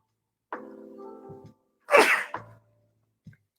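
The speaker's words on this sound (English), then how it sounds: "Oh, I gotta sneeze." A single loud, close human sneeze, preceded by a sharp intake of breath and followed by a brief exhale, in an otherwise quiet room.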